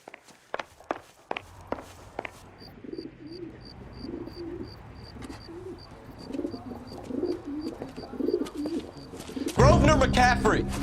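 Pigeons coo in soft repeated rolling calls in the video game L.A. Noire, heard under close footsteps and a rhythmic ticking, with a louder burst of noise and a voice at the end.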